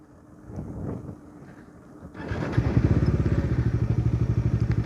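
A motorcycle engine, quiet at first after stalling, catches and settles into a loud, close, pulsing idle with rhythmic low thumps, with wind noise on the microphone.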